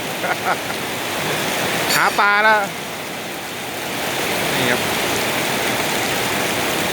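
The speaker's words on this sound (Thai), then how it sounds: "เนี่ยฝนตกแรงมากครับ" Heavy rain pours steadily over the rural countryside in a dense, unbroken hiss, with a voice briefly speaking over it.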